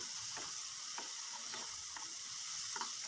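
Shrimp mixture frying in oil in a pan as the water cooks off. A steady close sizzle runs throughout, with regular scraping stirs about every half second.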